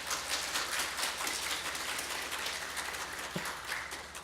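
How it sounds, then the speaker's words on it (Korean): A church congregation applauding at a Father's Day service, a soft, continuous patter of many hands heard from a distance with no talk over it. "박수 치시라고도 안 했는데 벌써 박수를"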